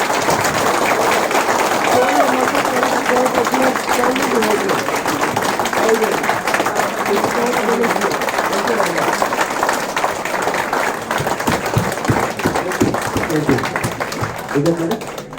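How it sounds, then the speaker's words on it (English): An audience at a Women's Day celebration in an office in Chandigarh applauds continuously and loudly, with voices mixed into the clapping throughout. "Biggest round of applause for all of us today"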